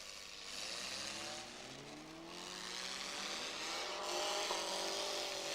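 Demolition derby cars at a county fair rev and accelerate off the line for a consolation race, engines rising in pitch and roaring louder over a few seconds with noisy crowd-like wash behind.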